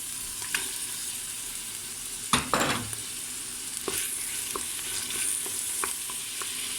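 Steady sizzling of tomatoes sautéing in a pot, with occasional stirring scrapes and clinks close by.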